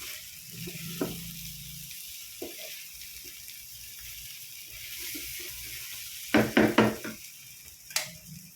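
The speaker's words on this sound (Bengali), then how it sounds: "আজকে হচ্ছে নুডলস বানাচ্ছে, চিংড়ি মাছ, নুডলস, সবজি সব মিলাইয়া" Noodles with shrimp and mixed vegetables frying in a pan, a steady low sizzle throughout with a few sharp stirring clatters and scrapes near the end.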